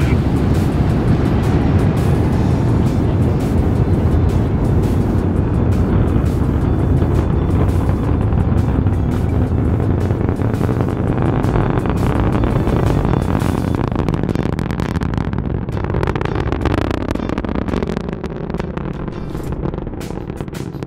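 Deep, continuous roar of a rocket launch at Kennedy Space Center, heard from a distance, loud and steady with a dense rumble that thins slightly near the end.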